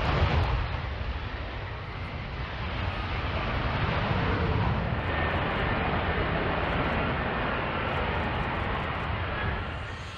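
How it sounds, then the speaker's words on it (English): An F-35B stealth jet taking off from a short runway, a loud continuous roar of jet engine that swells and holds, broad and rumbling, with no voices. "The F-35B can take off from a short runway and land vertically."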